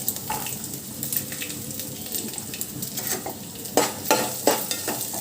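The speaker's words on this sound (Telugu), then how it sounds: "అది కూడా వేగుతున్నప్పుడు ఆనియన్స్ వేసుకొని ఇలా కలిపేసుకోవాలి." Onions and raisins frying in a pan for flattened-rice upma are stirred, with steady sizzling and several sharp scrapes of the spoon toward the end, close and without talk.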